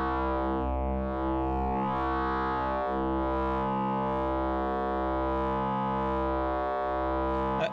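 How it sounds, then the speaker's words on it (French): Two slightly detuned synthesizer waves pass through a wave folder, making a sustained, buzzy harmonic drone that swells and dips in a slow, regular beating pulse, alone and steady throughout. "C'est le résultat de cet effet de battement produit par le désaccord."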